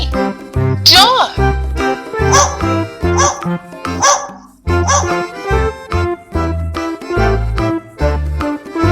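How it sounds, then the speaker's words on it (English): A dog barks in a series of short, sharp barks over a musical backing, loud and close. "Dog."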